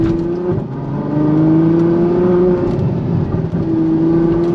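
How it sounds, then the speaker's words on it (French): A Ferrari F12 Mansory Stallone engine revs and holds a steady drone while accelerating, with a few faint pops and crackles of exhaust backfire. "Vous entendez là, c'est un petit retour d'échappement et ça marche très très fort les amis."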